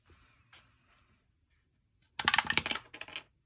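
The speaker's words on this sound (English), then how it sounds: "It looks like we're using the 6-sided dice." Six-sided dice tumble and clatter across a hard surface in a dense burst of sharp rattling clicks lasting about a second, preceded by faint quiet handling noise.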